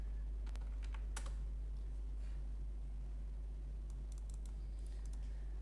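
Short bursts of computer keyboard typing, a quick cluster of keystrokes early and another later, faint over a constant low electrical hum, with no talking.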